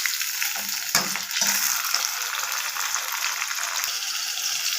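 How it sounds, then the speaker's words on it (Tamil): Onions and tomatoes sauté in an oil-filled pan for vada curry, a steady bright sizzle broken by a few scraping stirs near the start, close and moderately loud with no voices. "இந்த வெங்காயத்துக்கு கொஞ்சம் உப்பு போட்டு வதக்கலாங்க"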